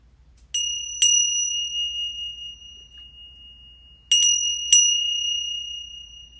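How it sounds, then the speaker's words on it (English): Meditation chimes struck during a yoga session, two pairs of bright metallic strikes a few seconds apart, each ringing out with a long, clear sustain that slowly fades in a quiet room. "As the sound of the chimes wash over you"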